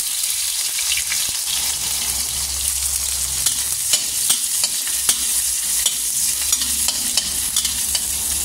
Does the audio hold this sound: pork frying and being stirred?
yes